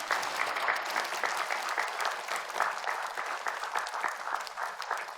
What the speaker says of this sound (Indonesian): Yuk kita sambut Pak Ustadz, ibu-ibu dengan tepuk tangan boleh.